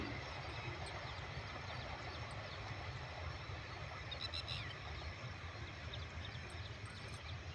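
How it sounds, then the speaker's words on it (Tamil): A train passes in the early morning, a loud, steady rumble that fills the whole stretch without letup and with no voices. "ட்ரெயின் போகுது பாருங்கள்."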